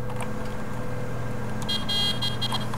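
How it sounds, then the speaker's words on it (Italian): A cheap, thin-sounding vehicle horn on a Case machine in Farming Simulator 17 honks in a few short bursts over a steady engine hum, fairly close. "Ha un clacson scrauso però"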